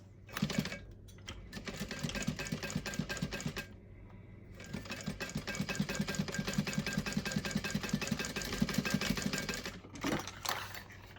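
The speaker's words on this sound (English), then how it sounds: "And now we're going to sew a 1/4 inch all the way around, leaving an opening space on the bottom." A sewing machine stitching a quarter-inch seam around a vinyl pencil pouch, its needle chattering in fast, even bursts close by, with brief pauses between runs.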